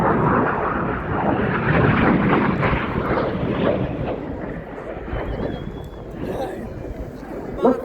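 Red Arrows jets fly an airshow display at Cosford, giving a loud, sustained roar that swells and then slowly fades as the aircraft pass, with wind buffeting the microphone and a commentator speaking over it.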